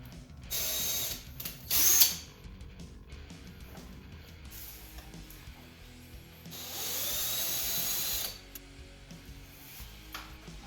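A power drill bores the output jack hole at an angle into an Esquire-style partscaster guitar body, with a loud burst near two seconds and a longer steady whining run from about seven to eight seconds, over faint background noise.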